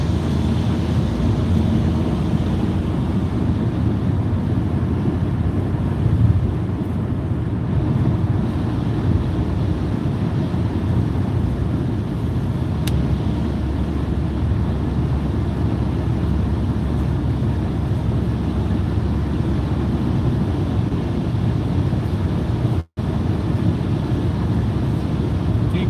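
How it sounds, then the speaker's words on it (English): Steady wind buffets the outside of a truck in the rain, a constant broadband rush with low rumble that stays loud and unbroken throughout, cutting out briefly near the end. "That wind is blowing"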